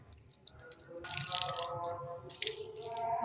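Water poured onto a dried-out plant at home, with splashing drips and trickles that come in two brief bursts over a steady background.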